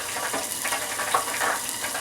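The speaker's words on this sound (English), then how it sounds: "So you can start to hear that sizzle already." Butter sizzles in a pot while cooking Cajun wings, a steady close crackling fry with faint pops and no talk.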